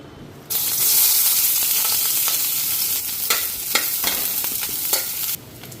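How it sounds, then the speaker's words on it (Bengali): Onion frying lightly in a pan for an egg curry, with a steady sizzle that runs close and loud for about five seconds while it is stirred, and scraping clicks break through the sizzle. "পেঁয়াজটা হালকা ফ্রাই করি।"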